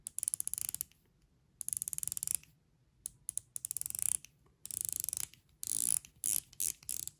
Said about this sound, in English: So the bezel action is actually very good.